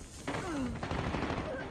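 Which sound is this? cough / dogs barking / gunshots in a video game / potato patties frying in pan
gunshots in a video game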